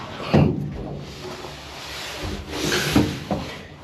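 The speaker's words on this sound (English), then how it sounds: "Open the lid up." An old machine's back box lid is opened, giving a few woody knocks and rubbing thuds, the first clunk near the start and further bumps and a scrape a few seconds later, close and moderately loud.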